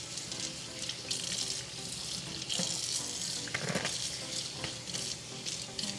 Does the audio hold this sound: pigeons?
no